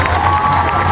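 A crowd at a municipal campaign rally in Tultitlán, Mexico, made up mostly of women, cheers and shouts in a loud, steady roar for about a second.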